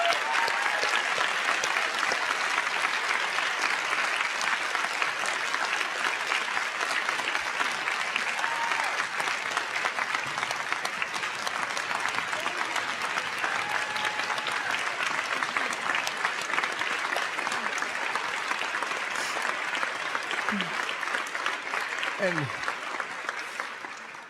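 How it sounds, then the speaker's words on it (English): An audience at a school governing board meeting applauds for over twenty seconds, a dense, steady wash of clapping that fades slightly at the end. "I'd like a round of applause for them."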